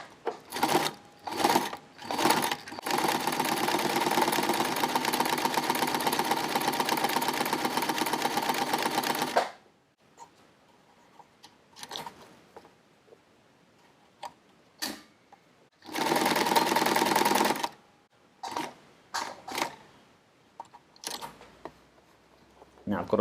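A sewing machine stitches webbing for MOLLE-to-belt adaptors, running in a long steady burst of rapid mechanical chatter and then a shorter one. Brief starts and stops and quiet handling noises fall between them.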